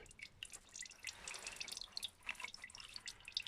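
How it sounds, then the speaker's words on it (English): Gearbox oil drips and trickles from an opened Range Rover gearbox, a quiet run of irregular splashy drops falling close by. "So I got it open and the oil is coming out."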